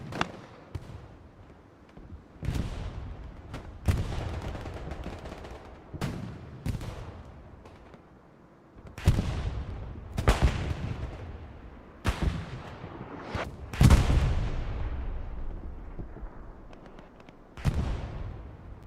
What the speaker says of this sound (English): it's just rounds just going everywhere